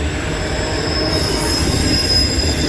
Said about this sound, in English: this is the busy little railroad right here